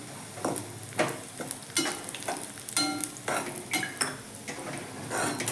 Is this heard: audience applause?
no